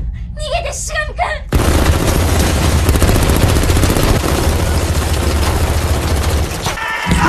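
A voice speaks briefly, then dense, continuous rapid gunfire erupts and keeps going loud for several seconds before cutting off.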